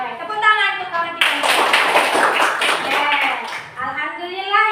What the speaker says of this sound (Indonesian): Baik, tepuk tangan untuk kawan kita.